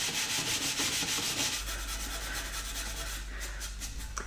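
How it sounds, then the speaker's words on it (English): Hand sanding of a ZF 6HP26 transmission casing from a Jaguar S-Type with 320 grit, a steady close rhythmic rasping rub, loud and alone. "But to speed up things a little bit, I'll start out with the 320 grit."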